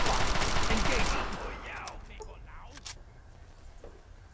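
Gunfire in Fallout 3, a burst of rapid shots up front that fades into scattered bangs, with people talking over it.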